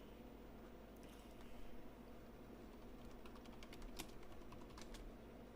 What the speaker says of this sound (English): Typing breaking news.